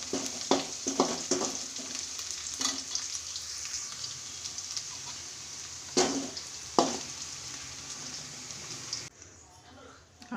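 Garlic frying slowly in oil over a low flame, a steady soft sizzle running throughout with a few sharper stirring scrapes and clinks, close by; a voice speaks briefly over it.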